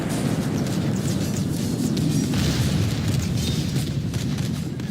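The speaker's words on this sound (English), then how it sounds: "They are pummeled by cannon fire and mortar fire as they are running off the field of battle." Cannon and mortar fire in a Thirty Years' War battle game, heard as a continuous dense rumble of booms and blasts with crackling bursts layered on top, steady and loud throughout with no talking.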